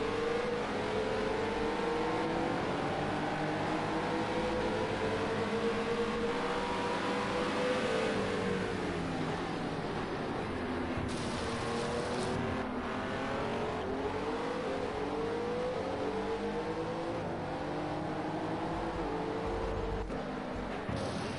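Race cars at Imola circuit roar past in a dense pack, with engines rising and falling in pitch as several cars sweep by close together. The loud, sustained engine noise runs throughout, with a commentator talking over it.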